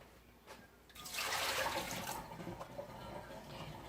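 Water from a soaked garden plant pot drains out in a soft splashing rush that starts suddenly, swells, then settles into a quieter trickle.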